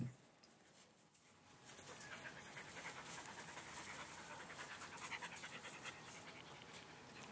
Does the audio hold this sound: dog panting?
yes